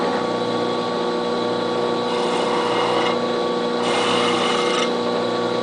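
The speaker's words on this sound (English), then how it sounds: "I'm making another pilot hole. I'm enlarging this one so that I can more easily drill into it with the larger bit" An electric drill whines steadily while enlarging a pilot hole in a TIE Defender model build, a constant motor hum with faint grinding that swells slightly midway, heard alone without speech.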